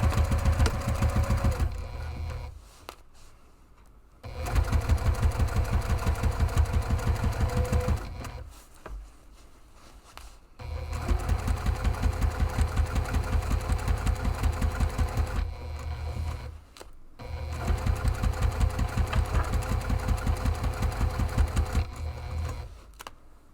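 A sewing machine stitches a large padded camera bag in four loud, sustained runs of rapid mechanical chatter, separated by short quiet pauses, with no voices.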